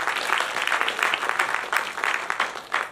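An audience at a Gujarati poetry recital hosted by a literary academy breaks into warm, steady applause for a poet, many hands clapping together at close range.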